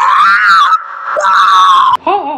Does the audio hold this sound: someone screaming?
yes